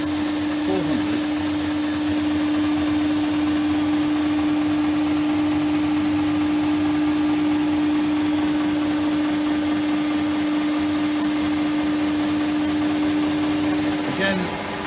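A machine runs with its drive belt at 400 RPM, making a long unbroken mechanical whir with a steady tonal hum at constant loudness, and a brief clatter near the end.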